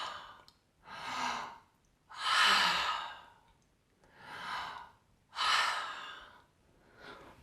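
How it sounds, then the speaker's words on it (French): Five forceful yoga cleansing breaths, air pushed hard out through the mouth in loud breathy bursts with short quiet gaps between, close and clear with no talking. "Prendre l'air dans la bouche, le faire descendre jusque dans le ventre et le cracher"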